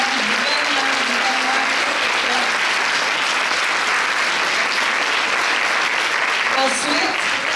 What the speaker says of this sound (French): Alors, une main d'applaudissement,